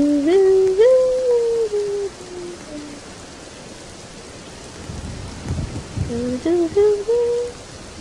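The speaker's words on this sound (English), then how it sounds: "Tonight is another storm." Stormy night in the Roblox game during a camping outing, with steady rain noise and a low rumble of thunder midway, while a rising and falling tonal hoot-like cue plays at the start and end.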